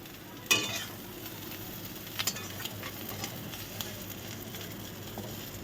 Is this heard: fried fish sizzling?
yes